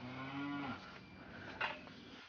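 A cow penned on a farm gives a single low, drawn-out moo up close, then faint shuffling and a brief knock follow in a quiet setting.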